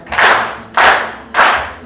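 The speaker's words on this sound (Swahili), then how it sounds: "Basi tulipigie wote makofi tuliojibu pale." Classroom pupils clap together in three loud, evenly spaced bursts, each a dense crackle of many hands that fades quickly, with no talk over them.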